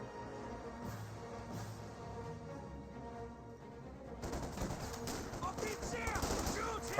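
Gunfire from a Company of Heroes 2 battle, with an MT-34 and infantry rifle squads trading fire: quiet ambient battle noise first, then a dense burst of rapid shots and impacts swelling louder over the last few seconds.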